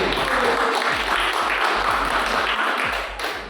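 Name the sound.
audience applause for the pro debate group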